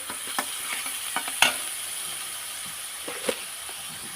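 Spices and coarse coconut paste sautéing in a pan for an egg curry, a low sizzle under scattered scraping stirs and clicks of the spatula, no one talking.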